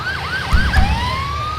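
A police car siren in the FiveM roleplay game wails in a rapid rising-and-falling yelp, then settles into a long steady rising tone, loud and close with a couple of low thumps.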